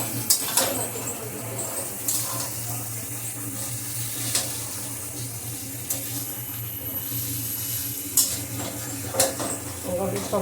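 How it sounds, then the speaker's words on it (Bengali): Chow mein noodles are stirred in a pan with pepper powder, giving scraping and clinking of utensil against metal over a low steady sizzle, with occasional sharper knocks and someone talking. "তারপর দিয়ে দিচ্ছি চাউমিনগুলো, দিয়ে নাড়াচাড়া করে নিচ্ছি"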